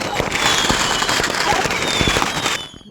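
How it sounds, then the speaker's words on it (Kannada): Loud, rapid Diwali firecrackers set off outside a home burst in a dense crackling string, sharp pops piling over each other, then cut off abruptly near the end. "ನಮ್ಮ ಮನೆ ಕಡೆಯಿಂದ ಸೌಂಡ್ ಬರ್ತಾಯಿತ್ತು ನಮ್ಮ ಭಾವ ಮತ್ತು ನಮ್ಮ ಮನೆಯವರು ಇಬ್ಬರು ಸೇರಿಕೊಂಡು ಪಟಾಕಿನ ಹಚ್ಚಿ ಸೌಂಡ್ ಬರ್ಸಿದ್ದು"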